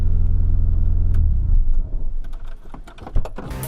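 A Nissan S13 with an SR20DET engine on a test drive gives a loud, steady low engine and road rumble. Mid-way it breaks into a few clicks and knocks, then the drone carries on to the end.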